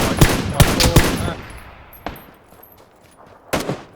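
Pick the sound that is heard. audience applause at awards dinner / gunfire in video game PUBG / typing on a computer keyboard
gunfire in video game PUBG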